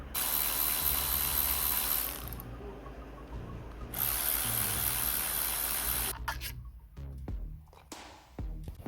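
Torx 40 coil pack bolts on a 2010 Vauxhall Astra being removed with a ratchet, giving a steady, close mechanical clicking for several seconds, then quieter, broken fiddling noises with tool handling at the end.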